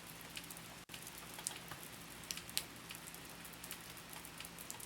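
Soft, steady rainfall for relaxation, a faint continuous patter of drops striking a surface, calm and even with no voices.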